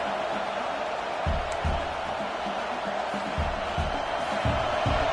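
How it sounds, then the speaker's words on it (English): A football stadium crowd roars steadily during a fourth down stand, a dense, loud wash of distant cheering and shouting with low rhythmic thumps pulsing underneath. "This crowd busting the decimal meter and trying to will a fourth down stop."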